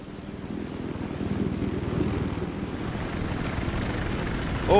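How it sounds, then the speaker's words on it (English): A helicopter flies in Battlefield 4, its rapid, steady rotor chop thudding continuously at moderate volume and growing slightly closer, with a brief sharp sound at the very end. "Oh, chopper."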